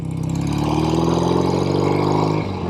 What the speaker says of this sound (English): This is a very smooth motorcycle.